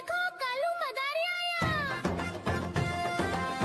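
A voice imitates a cat with a few drawn-out, gliding meows, then a children's song with backing music carries on.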